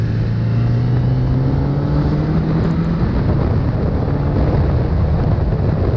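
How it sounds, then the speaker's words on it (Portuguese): A Kawasaki Ninja ZX10R SE superbike engine drones loud and steady while riding, its pitch sliding as it accelerates, with heavy wind rush over the microphone and no talking. "Vai, tio, anda aí que eu quero acelerar essa moto"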